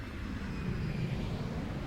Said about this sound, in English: The plane goes over.